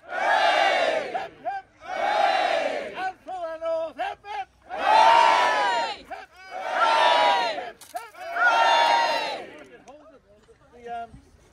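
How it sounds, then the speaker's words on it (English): A crowd at a Manx cammag game gives a rousing cheer for the South, six loud drawn-out hurrahs in a steady call-and-response rhythm, with a lone voice leading between each shout. "I would like to give a rousing cheer for the South."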